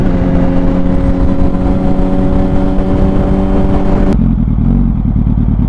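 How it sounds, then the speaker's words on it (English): A car engine held at steady high revs with strong harmonic drone, then abruptly cutting back as it bounces off the rev limiter and drops toward idle; loud and close, no talk. "I'll just start staying in it until it hits the rev limiter and comes back down"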